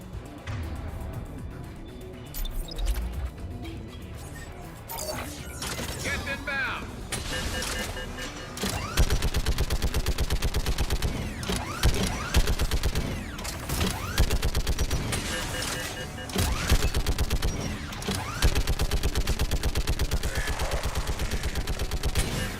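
Rapid turret gunfire from Mass Effect 3 on Rannoch, a loud sustained stream of shots that swells after the first few seconds, with voices talking at moments in between.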